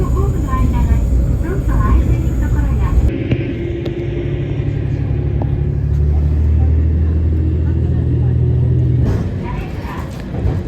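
JR Yamaguchi Line train running slowly through mountain terrain, a steady low rumble and rolling drone heard from on board, shifting in tone partway through, with faint voices at times.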